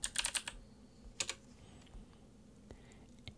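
Typing a MongoDB terminal command on a Mac computer keyboard: a quick cluster of crisp key clicks at the start, another short burst about a second later, then a few isolated taps, close and fairly quiet with no talking.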